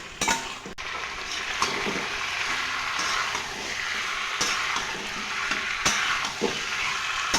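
Fried potatoes get stirred into a raw jackfruit curry in a pan, steady oil sizzle under repeated scraping and clinks of a spoon against metal, close and continuous with no voices.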